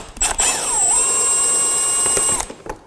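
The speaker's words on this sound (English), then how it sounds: "This is a Torx Plus 25. So you'll need to swap bits and remove it the same way." A power drill with a Torx Plus 25 bit backs out a bolt on the hood of a 2021 Ford Bronco, a loud close whine that drops in pitch, then holds steady for about two seconds before stopping.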